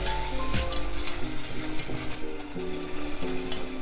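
Salted butter melts in a pan, a soft continuous sizzle and crackle heard close up, with no talking.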